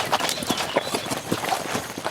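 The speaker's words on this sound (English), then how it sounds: "suddenly horses and riders surrounded us from all sides." Horses' hooves clip-clop in a quick, irregular patter as riders close in on foot soldiers in a fantasy drama scene, several animals moving together at moderate distance with no voices.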